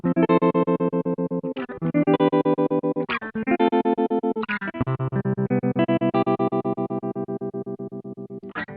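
Sustained electric guitar chords pulse rapidly in volume from a BOSS SL-2 Slicer pedal on its tremolo setting, a steady wavering throb over several chord changes, with no voices.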